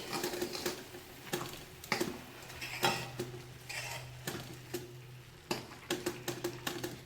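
Varagu rice being stirred into sambar in a cooking pot, with scattered clinks and scrapes of a spoon against the vessel in irregular bursts, close and fairly quiet.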